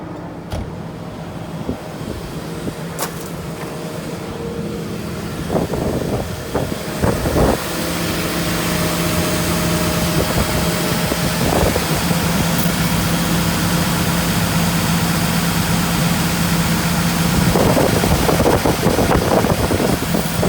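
A 2014 Komatsu PC290LC-10 excavator with 5400 hours idles steadily, its low diesel drone constant and fairly loud, with a few brief knocks and clunks nearby.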